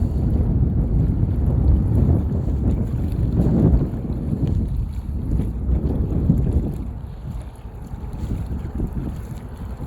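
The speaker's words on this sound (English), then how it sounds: "It's quite breezy." Strong wind buffets the microphone outdoors during a windy-day flight of a Potensic Atom drone, a loud continuous low rumble that swells and eases in gusts, with no speech.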